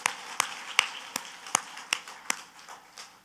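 A church congregation claps in a steady rhythm, roughly eight crisp, evenly spaced claps over a few seconds, moderately close and fairly quiet, with no talking over them.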